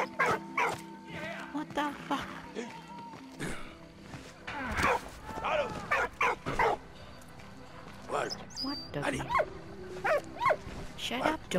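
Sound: dog barking and whimpering in the video game Valiant Hearts

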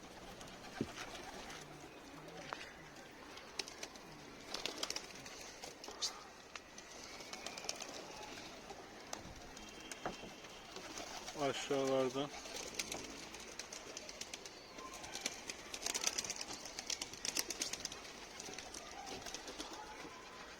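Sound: pigeons cooing and flying

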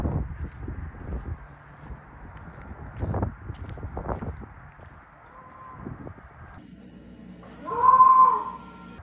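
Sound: Tesla Model Y goat sound played when the car locks

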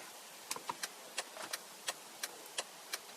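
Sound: Hyundai Tuscani hazard light relay ticking, thank-you flash

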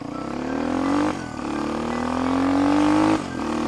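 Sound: KAYO K6 motard motorcycle being ridden

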